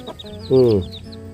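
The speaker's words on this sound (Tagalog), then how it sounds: "yung manok natin na may sisiw" A hen with her chicks clucks once, a short near call rising over a quiet dark farmyard backdrop with faint scattered peeps, before dusk light.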